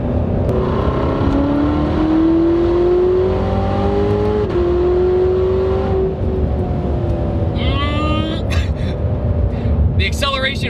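2019 Corvette ZR1 engine roaring loudly under hard acceleration, pitch climbing steadily through the gears with a brief shift, a voice talking over it near the end.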